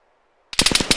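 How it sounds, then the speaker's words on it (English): After half a second of near silence, a loud, close burst of rapid machine gun fire from Arma 3 Apex rattles off in quick even shots. "Machine gun! 100 meters front!"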